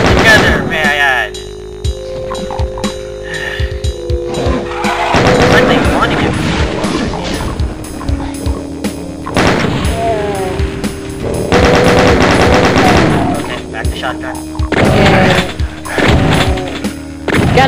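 Rapid gunfire in the video game Ultimate Doom, loud repeated bursts of shots and booms with game effects, while a voice talks over parts of the action.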